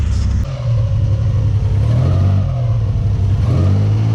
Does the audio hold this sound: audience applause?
no